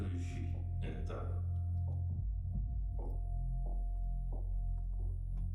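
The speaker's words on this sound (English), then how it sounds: "I really needed that heartbeat that runs through the whole track to smoothly transition into the opening" A low, steady heartbeat-like throb pulses through a music track, soft thumps repeating at an even pace under a sustained hum.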